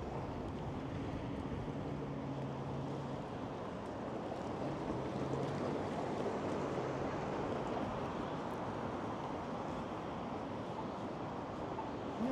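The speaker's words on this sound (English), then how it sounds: "So one last look at the lake. It's getting a bit choppy now." Choppy lake waves stirred by wind along a busy harbourfront, a steady broadband wash with gusty wind noise at a fairly even level throughout and a faint low hum underneath.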